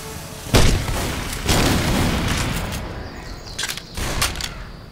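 Grenade blasts from the zombie shooter Left 4 Dead 2 land as several heavy booms, each a sudden loud thump that rumbles off, scattered across a few seconds with sharp cracking bursts near the end.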